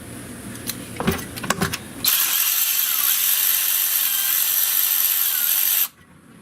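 A power tool whirs steadily for about four seconds while removing bolts on a Dodge Grand Caravan during a water pump and thermostat job, preceded by a few metallic clicks and clatters, close and loud.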